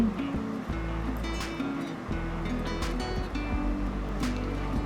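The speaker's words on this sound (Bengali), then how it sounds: "আমি আমার আগে থেকে ধুয়ে রাখা শাকগুলো দিয়ে দিচ্ছি" Washed drumstick leaves drop into a hot pan for a coconut stir-fry, giving a steady, loud sizzle and crackle that continues without a break and has no talk over it.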